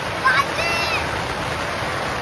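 Water scooped out of a flooded home and thrown outside, a brief splash followed by a steady rushing wash of water.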